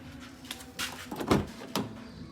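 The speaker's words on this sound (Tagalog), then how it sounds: "Ganda sumara ng mga pinto." Car doors on a Honda Civic FD shut one after another, several solid thuds and clunks spaced irregularly across a quiet background, heard fairly close.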